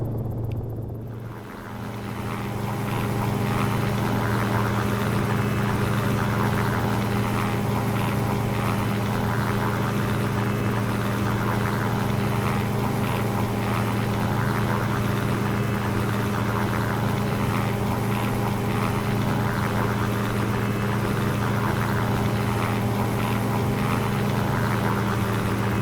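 Steady, loud simulated rotor and engine drone of a Cicaré helicopter lifting off in X-Plane 11, a continuous whirring hum that rises in after a brief quieter moment and then holds constant, with no talking.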